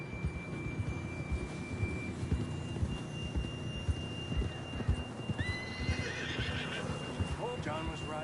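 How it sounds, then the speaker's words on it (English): Horse from Red Dead Redemption 2 gameplay, with steady clip-clop of hooves throughout and a whinnying neigh near the end over a game ambience with a faint tone. "Oh, John was riding that horse when we left Blackwater"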